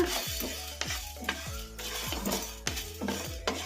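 Coriander seeds frying in a hot kadai over medium flame, with a steady sizzle broken by repeated scraping strokes of a spoon against the metal, roughly every half second, close and fairly quiet, with no talk.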